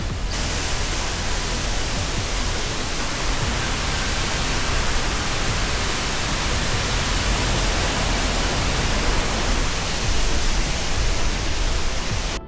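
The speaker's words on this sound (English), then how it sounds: "you'll find yourself in a mossy cave with the waterfall crashing down right in front of you" Gljúfrabúi waterfall in Iceland pours down inside a mossy cave, giving a loud, steady, broadband roar of crashing water that continues unbroken from start to finish with no voices.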